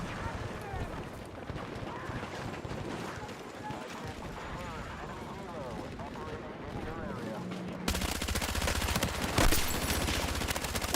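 Gunfire in the video game Battlefield 6, with dense bursts of shots and battle noise running throughout and growing louder and harsher near the end.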